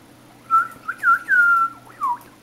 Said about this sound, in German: Ey, Mann, ich pfeife immer noch.